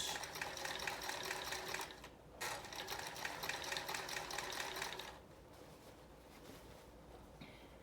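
A sewing machine runs an overcast stitch along the raw edge of a dress pants hem, whirring in a fast steady rattle for about five seconds, pausing briefly once, then stopping into quiet room noise.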